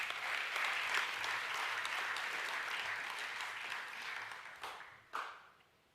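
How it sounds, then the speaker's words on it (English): Sustained applause from a crowd at a senior academic awards night, steady for several seconds, then thinning out into a few final claps before stopping. "we should give Peter a round of applause as well"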